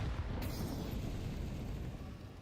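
Grenades explode in a Counter-Strike 2 match, producing a sudden loud boom with a deep rumbling body that rolls on and slowly fades, with no talk over it.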